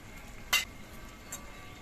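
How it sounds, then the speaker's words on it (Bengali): A spoon stirs thickened dahi katla, a yogurt-based catla fish curry, in a pan: one brief, bright scrape and a fainter second one over a quiet, faintly hissing background. "এবার একটু নেড়ে চেড়ে দেখে নিচ্ছি দই কাতলাটা হয়েছে কিনা"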